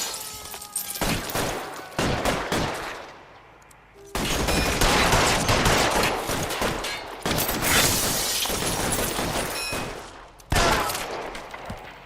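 Gunfight in LA Noire, with loud bursts of rapid gunfire and volleys of shots in close succession, broken by short lulls and a sharp shattering crack.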